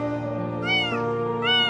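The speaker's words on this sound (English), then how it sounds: "It was a small kitten." A small kitten stuck inside a pipe at a landfill gives two loud, close, high-pitched meows, the first long and rising, the second shorter, heard alone without talking.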